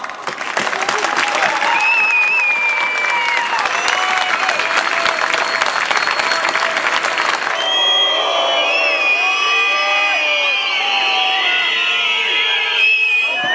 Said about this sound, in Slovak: A za to, že tu dnes, ste tu dnes toľký a toľký ste prišli v tomto studenom počasí, si zaslúžite obrovský potlesk.